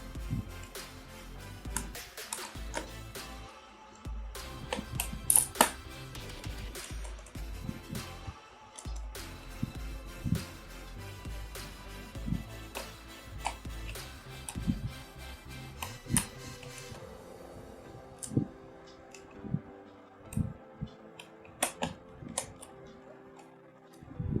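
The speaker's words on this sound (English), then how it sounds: "So we have to unscrew all the screws, then only we can open the laptop properly." Small screwdriver work on an HP notebook during disassembly, with soft clicks and light metallic ticks scattered irregularly over a faint background hiss, close and quiet throughout.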